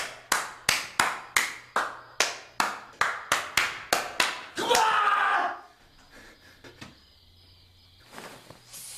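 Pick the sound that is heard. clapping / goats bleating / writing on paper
clapping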